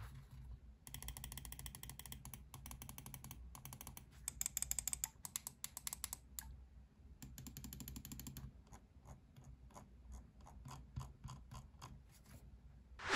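Lamzu Atlantis gaming mouse buttons clicked one after another: crisp, close, rapid clicks in bursts with short pauses, plus a scroll-wheel-like ratcheting run, with no talking.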